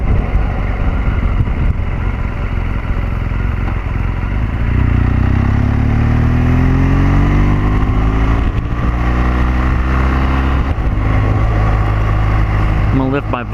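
A 2014 BMW R1200GS Adventure motorcycle roars steadily under loud wind rush while riding, with rising and falling engine tones as it accelerates through the gears.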